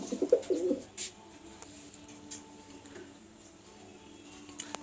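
A newly paired couple of Kaldama pigeons coo softly in a loft, with a brief burst of low cooing at the start and quieter murmurs and faint background rustle afterward.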